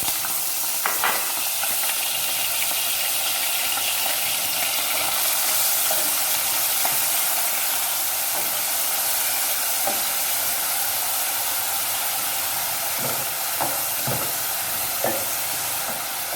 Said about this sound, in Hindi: ऑयल गरम हो गया है, अब इसमें ये प्याज ऐड करने जा रहे हैं।